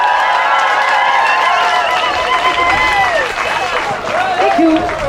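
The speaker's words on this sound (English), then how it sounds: "So a big round of applause," A crowd cheers and applauds at an outdoor Pride event opening, a dense wash of clapping and whoops that carries loudly and continuously, with voices shouting over it throughout.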